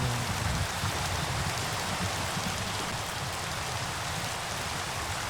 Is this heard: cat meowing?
no